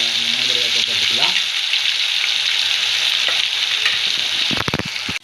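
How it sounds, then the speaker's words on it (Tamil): Chicken 65 pieces deep-fry in hot oil with a loud, continuous bubbling sizzle and some stirring, and a few sharp clatters near the end. "கறி நன்றாக பொரித்து கொண்டிருக்கின்றது."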